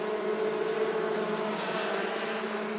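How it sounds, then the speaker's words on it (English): Honeybees buzzing inside an open beehive during an inspection, a dense, steady drone heard up close with no pauses and no voices over it. "Hear them all in there? They are buzzing."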